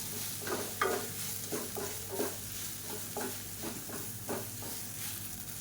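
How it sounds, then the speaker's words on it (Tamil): Small chopped idli pieces are tossed in hot oil for garlic podi idli, with a constant sizzle and repeated spatula strokes scraping the pan, close and moderately loud. "ரெண்டு இட்லி எடுத்திருக்கேன் நல்லா சின்ன சின்னதாக கட் பண்ணிவிட்டு அதை சேர்த்துக்கலாம் இந்த எண்ணெயில் கொஞ்சம் நல்லா பரட்டி விட்டுக்கலாம்"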